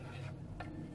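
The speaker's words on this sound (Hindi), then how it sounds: "लेकिन आपने इसको मुसलसल स्पून चलाते रहना है इसके अंदर" A spoon stirring phirni in a pan over low flame makes soft scraping strokes, two brief rasps that stand out faintly against a quiet background.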